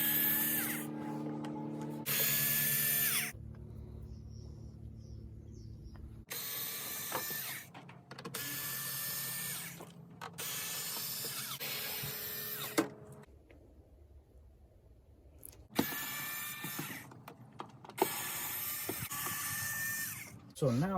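Power drill backing screws out of a plastic cover inside a car: several bursts of whirring motor noise with ratcheting clicks, separated by short quiet gaps, close by, with a person talking over parts of it.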